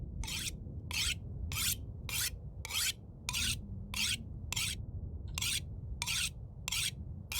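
A tool is sharpened on a whetstone in The Long Dark, heard as a steady run of about a dozen evenly spaced rasping strokes, each a short gritty scrape, close and clear over a low ambient hum with no voices.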